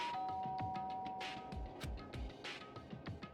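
A single electronic doorbell tone sounds and holds briefly, followed by soft thumps and clicks, in the video game Danganronpa: Trigger Happy Havoc.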